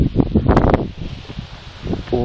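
Strong October wind buffets the microphone outdoors, producing loud low rumbling gusts and rustling that swell and ebb, louder at the start, with brief talk mixed in.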